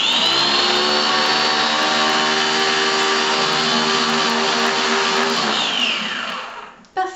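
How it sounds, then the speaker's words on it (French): A Philips Avent Babycook steamer-blender whirs steadily as it purees baby food, a loud continuous motor drone with a rising whine that holds for about six seconds before cutting off abruptly. "Et maintenant vous allez pouvoir mixer."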